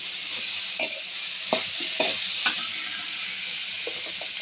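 Bitter gourd with raw onion and green chilli frying in a pan, a steady broad sizzle with a few sharp stirring clacks at intervals, close and continuous with no voices.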